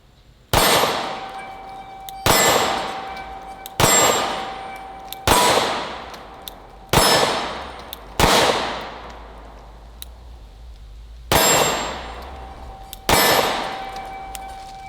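Pistol shots ringing off steel targets, fired one-handed with a red-dot-equipped concealed carry handgun at an outdoor range: eight sharp, loud cracks with metallic clangs, spaced about one and a half seconds apart, each ringing briefly before the next.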